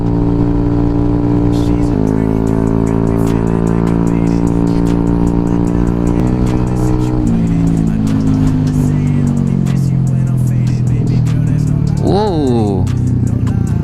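A modified Yamaha Nmax scooter with an aftermarket exhaust revs loud and close, its engine tone holding steady then climbing and falling as it is pushed to high RPM, with a voice talking over it.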